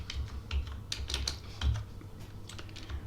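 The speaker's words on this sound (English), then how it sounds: "We're going to be typing an SQL statement that looks something along these lines." An SQL statement is typed quickly on a computer keyboard, giving a close, steady patter of key clicks with a few heavier thumps, probably the space bar, and no voices.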